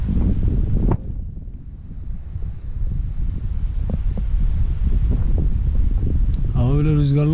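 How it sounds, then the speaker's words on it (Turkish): Strong wind blows outdoors before rain, a heavy, constant low rumble of gusts buffeting close, with a brief lull early and a voice near the end. "Hava böyle rüzgarlı olmasa yağmur gelmezdi de. O rüzgar ya, bunları getiriyor."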